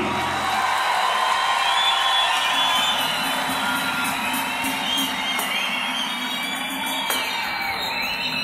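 A live audience at a samba concert in Madureira cheers and whoops loudly and steadily, with dense crowd noise and scattered shouts sustained throughout.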